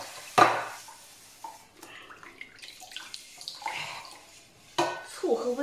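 Water splashes and clatters as a steamer tray from a new pot is rinsed and scrubbed, with sharp knocks of metal against the basin at the start and near the end, close and fairly loud.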